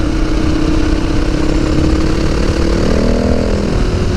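A Yamaha WR motorcycle engine running steadily and loudly up close, a continuous buzzing drone with a slight pitch rise toward the end, no speech.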